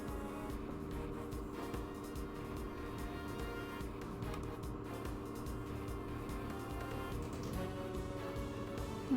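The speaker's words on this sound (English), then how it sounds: "Big loud garbage truck." A garbage truck's heavy engine rumbles steadily and loudly nearby, a low droning idle that continues throughout without pause.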